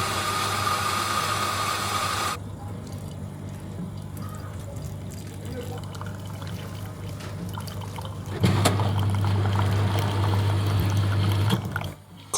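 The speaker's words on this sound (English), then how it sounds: "Coffee machines appear to like splashing me this trip." A hotel coffee machine pours into a cup, starting with a steady hiss, then a quiet stretch, then a louder continuous stream of liquid that stops abruptly near the end, with faint background room noise.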